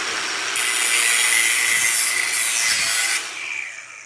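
A Dewalt 20V battery grinder slices through an aluminum can, a loud bright rasping screech that starts abruptly, holds for under three seconds, then cuts off as the spinning disc winds down.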